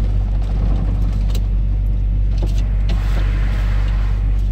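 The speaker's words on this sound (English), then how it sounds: "Let me turn the truck off." A semi truck's engine idles loudly and steadily with a deep rumble for the whole stretch, and no shutdown or wind-down ever comes through.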